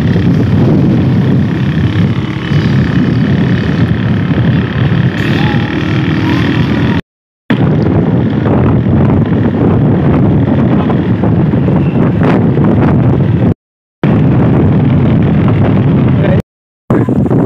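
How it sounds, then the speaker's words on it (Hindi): Strong wind from a storm with rain buffets the microphone in a loud, continuous roar, with a few brief dropouts and no voices. "अब तेज़ हवाएं चलना शुरू हो गई हैं और ये तूफान तो देखें जी"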